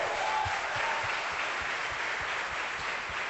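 A church congregation applauds in a steady, dense wash of clapping that lasts throughout, loud and continuous, with a few sharper claps standing out.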